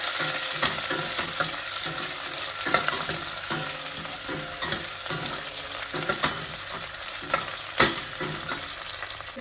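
Chopped onion fries in a pan for a horse gram rasam, giving a steady, close crackling sizzle broken by regular scraping strokes of a stirring spoon, with no voices.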